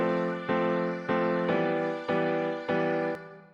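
A bright, buzzy synth chord loop through a Phase 45 phaser effect repeats in steady, punchy stabs roughly every half second, loud and close with no voices.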